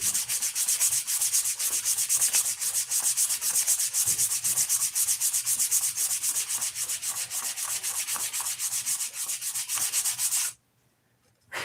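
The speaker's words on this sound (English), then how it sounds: "This is so hard to sand because it's plywood." Steady, continuous scratchy rubbing of hand sanding on plywood, loud and close, running unbroken before stopping abruptly near the end.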